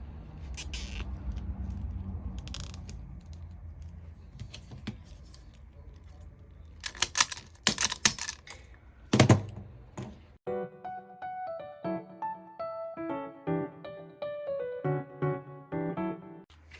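Plastic zip ties are threaded and pulled tight around a metal rose wreath frame, giving several sharp ratcheting zips and clicks close by, then a run of quieter rapid ticks, with no talking.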